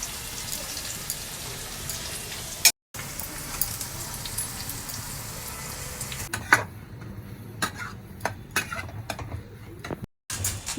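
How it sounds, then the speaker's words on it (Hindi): Onion, peas and sweet corn fry in a pan, a soft steady sizzle for the first several seconds, then quieter crackling punctuated by irregular ticks and taps of stirring, with short dropouts. "पहले शिका ने प्याज, मटर और जो स्वीट कॉर्न है ना, तो वो भी डाल दिए हैं इसमें, पहले फ्राई कर रहे हैं"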